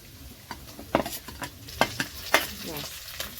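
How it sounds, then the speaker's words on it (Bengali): Chopped garlic frying in hot oil, a soft steady sizzle punctuated by several sharp scraping stirs of a spatula, close up with no talk. "ওই তেলেই দিয়ে দেবো রসুন কুচি দেখো আর ভাজবো"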